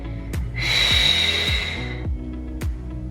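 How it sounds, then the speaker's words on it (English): A slow, audible exhale through the nose during a seated neck stretch, forward and down: one long, steady breath of moderate loudness over a low background hum with faint pulsing thumps. "Exhale forwards and down."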